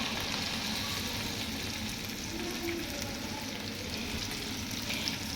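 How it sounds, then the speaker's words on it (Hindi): Okra (bhindi) fries in a pan with a steady, dense sizzle that holds at an even level throughout, close and unbroken, with no voices. "चलें गाइस, भिंडी को करती हूँ फ्राई।"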